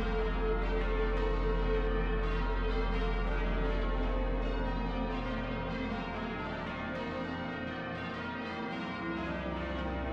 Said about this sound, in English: you might hear the Minster's bells ringing out across the city